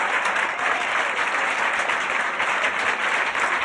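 A studio audience gives a steady, full round of applause for a comedy magician on a 1980s television comedy show, dense clapping holding evenly from start to finish.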